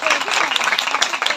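Brief burst of congregation clapping at a church blessing service, a crowd applauding with uneven claps and possible voices mixed in.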